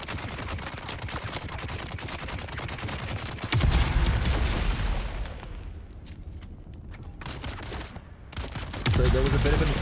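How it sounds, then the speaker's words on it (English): Sniper rifle shots ring out in the desert-planet game Dune Awakening, a dense run of sharp, loud reports with heavier booms partway through, and a voice talking between the shots. "The best sniper rifle I've ever used."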